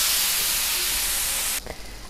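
Sausage sizzles on a hot griddle with a dense, steady hiss that runs loud and unbroken, then cuts off abruptly near the end, leaving a few faint crackles.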